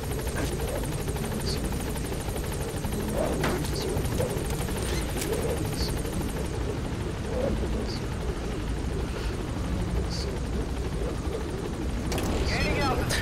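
A helicopter in the video game Metal Gear Solid V: The Phantom Pain gives a steady rotor drone with faint chirps and blips over it, and a person talks over the sound.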